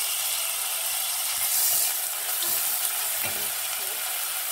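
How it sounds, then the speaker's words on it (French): Onions sizzle steadily in about 60 ml of hot olive oil, a continuous close crackling hiss with a few faint stirring scrapes and no voices. "je mets l'huile d'olive mais je mets que la moitié 60 ml il y a un nazalé je mets les oignons"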